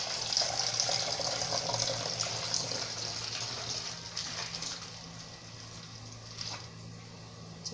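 Water pours into a pesticide mixture as a steady, close gush of running liquid that gradually softens, with no talk.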